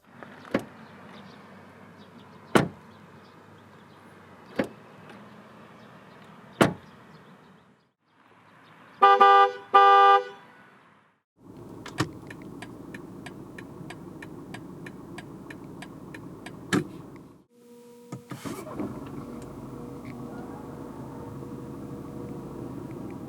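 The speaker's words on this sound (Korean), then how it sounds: "신형 3 시리즈, 그 중에서 320D 모델이 들려주는 감성 측면의 소리들을 들어볼까요?" A series of sharp car door thunks and clicks on a 2019 BMW 320d diesel sedan, a whirring electric motor, then steady engine idle and a brief horn-like tone, heard close without talk.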